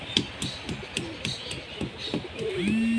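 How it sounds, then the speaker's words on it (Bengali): Pigeons peck at grit from a crushed brick, making a quick series of light, dry taps up close, with a short coo near the end. "যেহেতু পায়রা গিট কীভাবে খায় দেখো"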